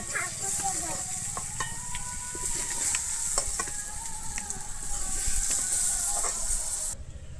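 Young jackfruit pieces frying in oil in a pan for a Bengali vegetarian curry give a steady close sizzle with light scraping and stirring as they are lifted out, continuous throughout with no talk.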